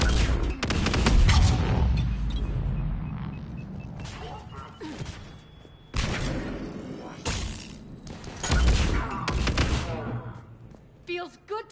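Mass Effect 3 firefight: bursts of automatic gunfire and heavy thumping impacts come in clustered volleys with brief lulls, mechanical clanks and a steady tone between them, while voices speak over parts of the combat.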